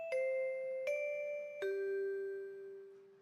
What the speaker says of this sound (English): Private, the bell rang.